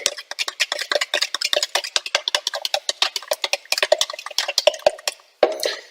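Brisk whisking in a bowl while preparing Macedonian moussaka: a fast, steady run of close, clicking scrape strokes that carries on for several seconds with a brief break near the end and no talking.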